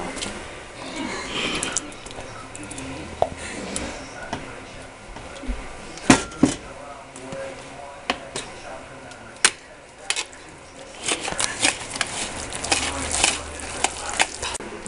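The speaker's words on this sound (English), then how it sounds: "you have to stir it around like this until it's all fully mixed" Wet ingredients stirred in a mixing bowl for a chocolate chip batter, an irregular run of scraping and clacking spoon strokes, close and moderately loud, with brief soft talk in places.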